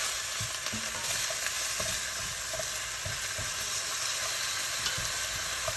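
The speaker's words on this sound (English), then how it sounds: "want to get a little bit of browning on the garlic and the ginger just to bring out some flavors" Garlic, ginger and green onions sizzle and fry in a pan, a steady close crackle with occasional soft stirring scrapes and no talking.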